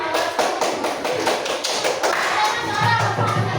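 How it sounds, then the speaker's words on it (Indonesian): A primary-school class claps hands together: a dense, continuous patter of close clapping from many children, with some thumps and a faint voice underneath. "Tepuk tangan untuk kita semua."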